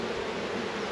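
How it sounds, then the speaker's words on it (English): Honeybees buzzing at an open hive, a dense, loud, continuous hum with no voices over it. "They're loud though. This is, I think it's the loudest they've ever been, but it may be just because I have more bees than I've ever had"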